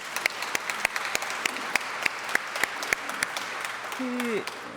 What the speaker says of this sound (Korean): 교수님들과 또 연주자 성악가 분들께 다시 한번 뜨거운 박수를 부탁드리겠습니다